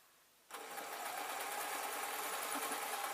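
A sewing machine starts up and runs steadily, stitching through a 3D glasses case with a continuous whirring, mechanical buzz that stays at an even, close level with no talk.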